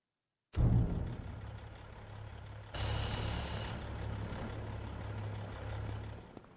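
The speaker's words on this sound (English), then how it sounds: "Leave my truck here." A truck in a farming video game pulls up and stops, its engine rumbling steadily, with a sharp hiss of air brakes partway through and the engine idling on afterward.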